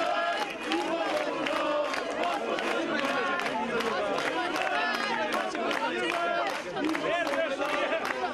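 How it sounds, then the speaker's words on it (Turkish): A large crowd chants rhythmically in support of İmamoğlu, repeated shouted phrases with scattered claps and cheers forming a dense, steady roar. "mazbatayı ver, İmamoğlu'na mazbatayı ver tezahüratıyla destek verdi"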